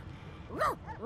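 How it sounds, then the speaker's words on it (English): A dog whining in the Divinity: Original Sin 2 video game, one short rising and falling whimper over a low background hum, with a faint second yip trailing after. "The dog whines and continues pawing at its nose."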